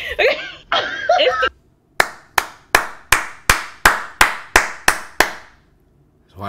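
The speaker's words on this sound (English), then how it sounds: "I'm so glad I could clap it up" Hand claps ring out sharply and alone, about ten distinct slaps in a steady rhythm, each with a brief decaying tail, following a couple of short bursts of voices.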